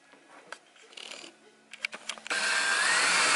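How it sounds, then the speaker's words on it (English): Kitchen cabinets being assembled with a screwdriver: a few light clicks and knocks, then a steady loud powered whir that runs on continuously, close by. "A screwdriver in hand."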